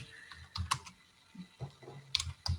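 Fingers tap out Python code on a computer keyboard in irregular bursts of close, crisp key clicks separated by short pauses.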